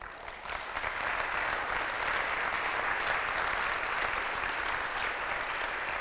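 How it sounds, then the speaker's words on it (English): Steady, sustained applause from a tech conference keynote audience, a dense wash of clapping that holds at an even level for several seconds with no voices on top. "they deserve your applause too."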